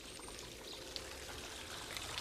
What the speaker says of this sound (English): This is the escapement wheel and pendulum of a water clock I'm building for Felixstowe Town